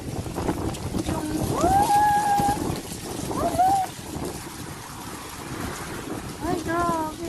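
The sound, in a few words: strong wind gusting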